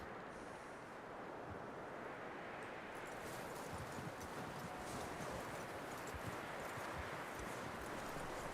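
Horse hooves clip-clopping steadily in the open-world western game Red Dead Redemption 2, a continuous rhythmic patter with wind-like outdoor ambience, no talk over it.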